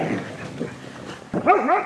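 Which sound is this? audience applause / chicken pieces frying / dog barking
dog barking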